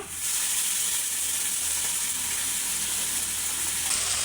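Ginger, onion and cumin pastes sizzle loudly in hot oil, a steady bright crackling hiss that goes on without pause.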